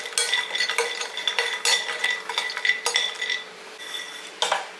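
Cashews, cardamom and pistachios are stirred around in a metal pan while roasting lightly, giving repeated scraping clinks and rattles of the spoon against the pan in an irregular rhythm, close up, with only a faint sizzle beneath.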